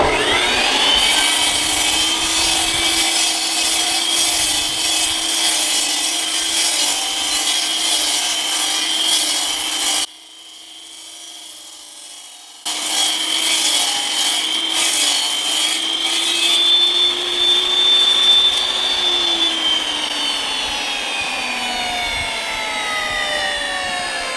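A saw cuts paver stone for a backyard walkway, a loud, steady grinding whine with a rising and falling pitch, broken by a brief pause before cutting resumes at full strength.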